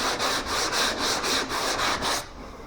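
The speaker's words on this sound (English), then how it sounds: "When you sand up" Sandpaper on a 2x4 block sands along a curved body line of a car panel over filler, a loud, steady back-and-forth rasp repeating in about eight even strokes, then stopping abruptly.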